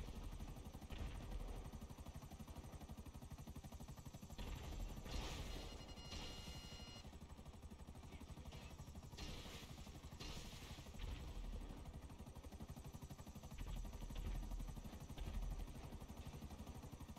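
Video-game helicopters produce a steady low rotor drone with mechanical rumble, punctuated by brief louder bursts and impacts, heard alone without talk.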